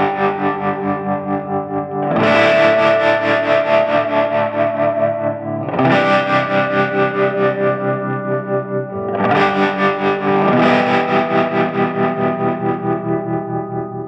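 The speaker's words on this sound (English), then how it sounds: "I use the Boss pedal for my tremolo. And I like to have the possibility to mix the tremolo while I'm playing." Electric guitar played through a Boss tremolo pedal mixed into the tone, with distorted, chorus-rich sustained chords struck three times, each ringing out with a pulsing, wavering shimmer, loud and alone.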